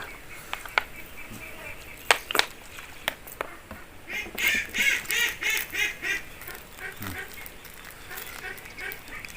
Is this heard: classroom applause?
no